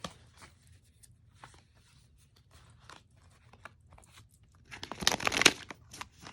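Soft papery rustles and taps of oracle cards being shuffled, quiet at first, then a louder burst of crisp riffling near the end.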